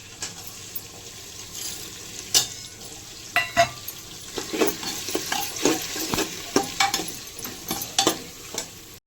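Whole cloves, peppercorns and cardamom sizzling as they fry for a chicken biryani: a soft, low frying hiss broken by scattered pops and clinks from stirring, growing busier in the second half.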